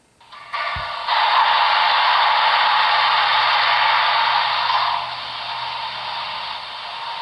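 A Broadway Limited brass Texas & Pacific 2-10-4 model locomotive powers up. A loud, steady hiss of steam sound starts abruptly and holds for several seconds, then drops to a softer continuous hiss.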